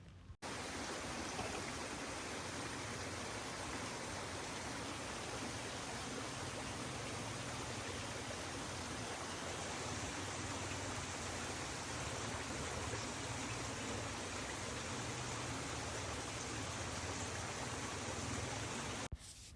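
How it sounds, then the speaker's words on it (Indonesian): Constant, even rush of flowing water, a steady trickling stream heard close up with no voices or other sounds. "itu adalah suara gemericik air."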